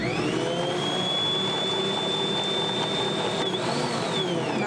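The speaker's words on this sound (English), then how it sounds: "when you plug your mixer in, it works instantly" An electric stand mixer creams soft butter and sugar with a steady high motor whine that holds level, then dips and rises briefly near the end as the load shifts; no talking.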